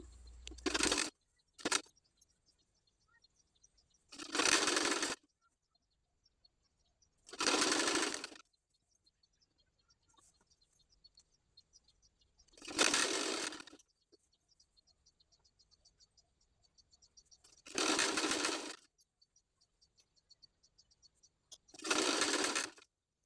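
A sewing machine stitches the folded one-inch hem of a girl's top in six separate bursts of steady whirring, each a few seconds long and separated by quiet pauses, with no talking.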